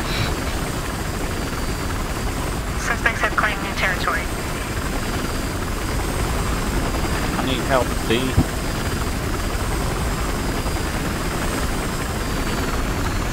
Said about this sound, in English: Are you on a chopper right now